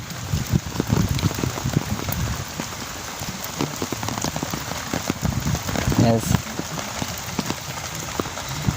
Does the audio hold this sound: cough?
no